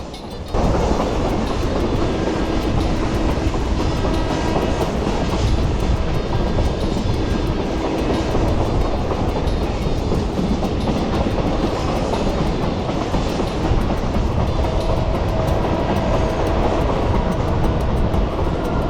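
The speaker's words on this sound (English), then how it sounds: "the train doesn't really slow down at these small crossings" A train in Jamaica rushes past close by at a small road crossing without slowing, its loud, steady rumble and rattling wheels filling the whole stretch without a break.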